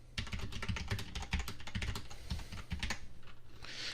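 Fast typing on a Cherry MX Board 6.0 mechanical keyboard, a close, dense patter of crisp key clicks and clacks running continuously with no voices.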